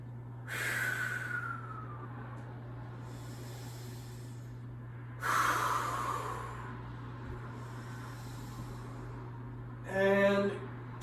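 Three deep breaths during a yoga exercise, each a slow, close, airy inhale and exhale, spaced evenly with quiet pauses between.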